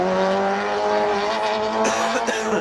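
Nissan S13 drift car from Nemesis Designs at a Prodrift event in Ennis, engine revving hard and steady with tire squeal, then a shift in pitch near the end; a faint announcer voice may sit underneath.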